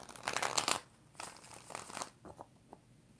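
Tarot cards being shuffled make crisp riffling and rustling bursts, a long flurry followed by shorter sweeps and a few light taps, close and fairly quiet with no talk.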